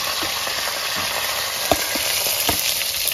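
Curry leaves and onion fry in hot oil for upma, a loud, steady sizzle and crackle with a few sharp pops, close up and without talk.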